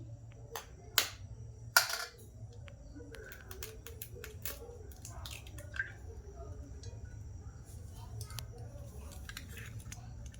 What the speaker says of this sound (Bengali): প্রথমে আমি একটা ডিম ফাটিয়ে নিচ্ছি।